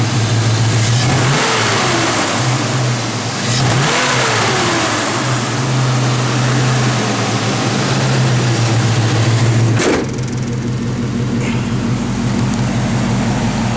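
A 1966 Chevrolet C10 pickup truck's engine runs steadily nearby, with a few revs rising and falling over a constant rumble before settling back to an even idle.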